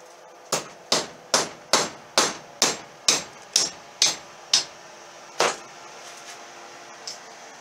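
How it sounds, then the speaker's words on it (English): Metal rivets hammered while assembling a small handmade axe: about a dozen sharp, ringing strikes in a steady rhythm, close and loud, then a pause and two more spaced blows. "we're just going to rivet these, so let's get this started."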